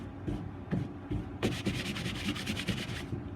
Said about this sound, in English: I just take the sanding block, kind of knock down some high points.